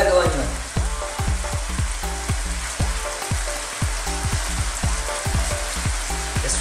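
Red onion fries in a pan with tender pork for Bicol Express, giving a continuous close sizzle with rhythmic scraping stirs.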